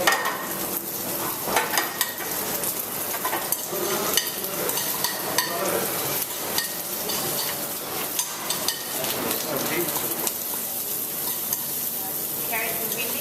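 Mustard seeds, cumin, chopped ginger and curry leaves fry in a pan in a professional kitchen, a loud continuous sizzle with crackles and the scrape of stirring, close and without talk.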